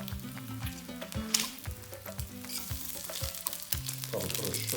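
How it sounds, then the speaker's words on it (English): Bacon and eggs frying in a pan crackle and spit continuously under a low, pulsing hum, close and fairly loud, with no one speaking. "The bacon is rapidly overcooking, and the eggs are just about there and following suit."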